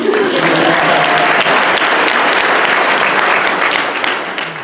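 A crowd at a gun-control rally claps steadily after a student speaker, a dense wash of applause that holds level and then tapers off slightly at the end.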